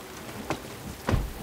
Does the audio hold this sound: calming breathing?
no